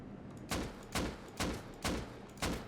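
Five evenly spaced gunshots strike a hot air balloon in the survival game Rust, each a sharp, fairly close crack with a short decay, landing about every half second with no talk.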